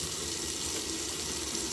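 Hot tap water runs steadily into a sink to rinse a seasoned cast iron pan used for potatoes and sausage, a continuous close hiss and splash with no pauses.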